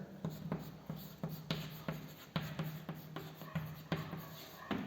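Chalk tapping and scraping across a board during a chemistry lesson in a classroom, a brisk run of short strokes and taps in an uneven rhythm, close and fairly quiet, with no voices.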